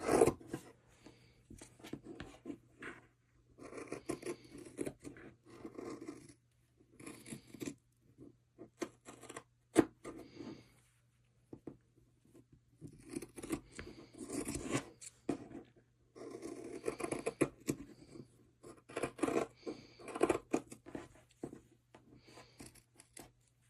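Scissors snip through three stacked layers of fabric scraps for a sewn coffee-cup coaster, a series of close, soft crunching cuts in short bursts with brief pauses between them.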